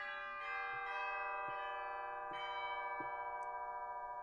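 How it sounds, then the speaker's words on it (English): Chimes percussion stop on a virtual organ rings out in a short series of struck bell tones, each strike sounding over a sustained organ chord that keeps holding underneath. "we have a single percussion stop. Right, Cam? Those are the chimes."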